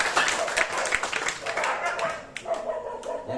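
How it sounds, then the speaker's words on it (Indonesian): At a youth programme for new voters in Sabah, a crowd claps in short, uneven bursts, with voices talking over the clapping. "Beri tepuk tangan coba dia."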